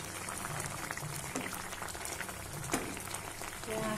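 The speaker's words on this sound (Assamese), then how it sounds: "আঠ মিনিটমান মই এইখিনি উতলাই ল'ম" Fish curry with tenga fruit bubbles in a pot on a gas stove, a quiet, continuous crackle of simmering liquid with occasional small pops, close and low in level.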